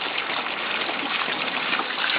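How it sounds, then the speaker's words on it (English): Water pours out of a pool filter housing in a continuous rushing trickle, a steady close splashing flow with no voices. "So we'll let the water come off the side"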